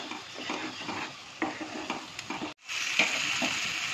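A paste of ground cashew, poppy seed and melon seed sizzles and spatters in a hot pan, with stirring scrapes at a brisk rhythm, a brief drop to near silence, then renewed close frying hiss.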